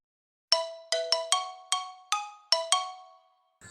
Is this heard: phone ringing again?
yes